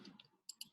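A few soft, separate clicks of calculator keys being pressed to enter numbers, faint and close in a quiet room.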